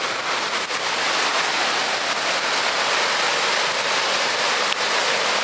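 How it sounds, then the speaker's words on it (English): A waterfall roars loud and steady, a dense broadband rush of falling water heard up close and unbroken by voices. "and then I'm going to show you the waterfall"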